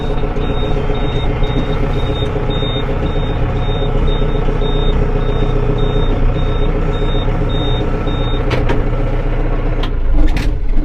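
Repeated short electronic reversing warning beeps sound in a regular pattern over a loud idling Yanmar AF 650 tractor engine rumble, then stop while the engine keeps running.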